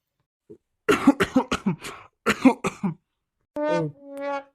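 A quick series of harsh coughs, close and loud, followed by a short voiced throat sound.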